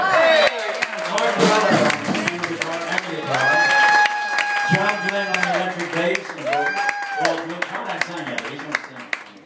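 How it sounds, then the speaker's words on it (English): A club crowd applauds and cheers the band members at a live music night, dense clapping running throughout while someone speaks over it through a PA, with some ringing instrument tones. "Let's have a round of applause."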